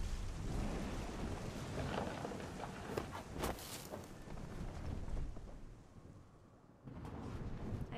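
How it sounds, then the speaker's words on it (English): Thunderstorm in the video game What Remains of Edith Finch: a broad rolling rumble with crackling bursts and a rain-like wash, swelling and fading before dropping briefly near the end, heard alone without talk. "Thunder sounded much too close and full of angry power."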